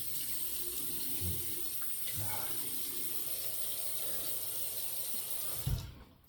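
Water runs steadily from a tap to wet a shaving brush at a sink for a wet shave, a continuous close splashing stream with a brief clatter near the end before it cuts off.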